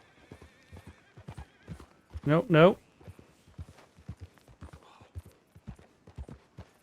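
Horse hooves clip-clopping on a path in the Western video game Red Dead Redemption 2, steady steps interrupted by a loud, shrill whinny, with someone talking over the scene.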